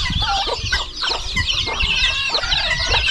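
Chickens cluck steadily in their coops, a dense overlapping chorus of hens and roosters calling close by with no pauses, loud and continuous with no talk.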